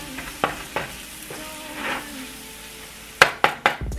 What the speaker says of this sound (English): Make sure you scrape the bottom because you don't want that flour to burn on the bottom.